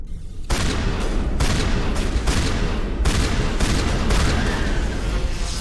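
Dense gunfire in the sci-fi horror game Dead Space: loud, rapid booming blasts in a continuous barrage after a brief quiet start, heavy and close, with no pauses between volleys.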